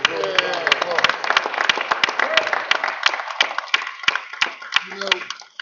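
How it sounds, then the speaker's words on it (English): A crowd claps together in sustained applause at a mayoral announcement, dense and steady for several seconds before thinning out at the end. "could we give Councilman Curtis Jones a round of applause?"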